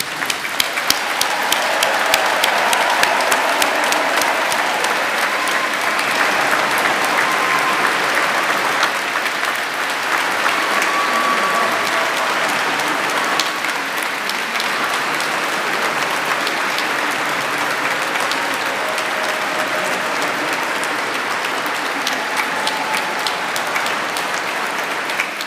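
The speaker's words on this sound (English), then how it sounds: "Can I invite you all to give a big round of applause to all our new graduates?" A graduation ceremony audience inside Canterbury Cathedral claps at length, with dense, sustained applause echoing through the large stone interior and holding steady and loud throughout.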